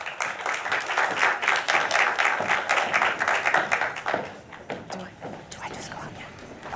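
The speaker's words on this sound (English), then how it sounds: "Let's give them a round of applause" A crowd claps in steady applause that gradually thins out, with scattered murmuring voices underneath as it fades.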